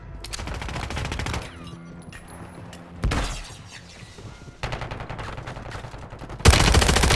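Bursts of automatic gunfire from the Call of Duty video game crackle in several loud volleys, with gaps of quieter game ambience and music between them and a final heavy burst at the end.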